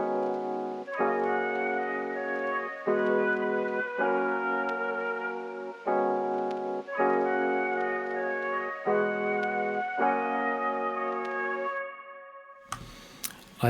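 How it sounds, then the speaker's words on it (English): Lofi flute melody played with a sampled solo woodwind instrument, phrased in sustained notes with short gaps, swelling slightly on long tones, loud and close, ending with a brief burst of different noise. "Then I did this flute melody."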